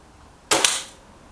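A single sharp crack from a Reximex Zone air rifle firing a pellet, close and fairly quiet, followed by a brief fading tail.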